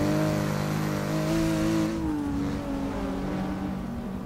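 Race car engines at Sebring International Raceway in Forza Motorsport 6, a loud, close engine revving with rising and falling pitch and harmonic whine, easing slightly as the cars pull away, with no voices.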